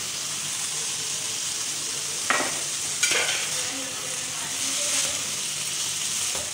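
Carrots, cabbage and capsicum stir-fry with chicken in a hot pan, a steady close sizzle and hiss broken by a couple of sharp clacks of a utensil against the pan.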